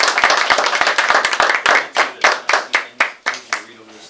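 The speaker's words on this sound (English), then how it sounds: "give these guys a round of applause" A small audience claps for newly sworn-in sheriff's deputies. It starts as a brief burst of many hands, then thins into a few loud, distinct, evenly spaced claps close by, with voices talking over the end.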